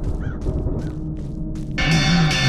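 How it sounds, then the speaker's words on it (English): Crows in a video game caw several times in a row, clear and fairly close, before a brighter ringing tone takes over at the end. "The birds!"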